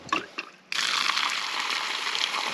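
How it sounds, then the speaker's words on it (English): Water from an RV park hydrant fed through half-inch line: a couple of faint clicks as the valve turns, then a sudden steady rush of flowing water that continues evenly and fairly close. "So here is the water hydrant. Let me turn it on here."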